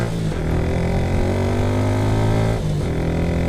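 A Rouser NS125 motorcycle engine runs loud and close with a steady harmonic drone, its pitch shifting briefly near the end as the throttle is blipped.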